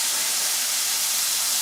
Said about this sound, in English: I'm going to talk about that when the bacon's not frying, drowning me out here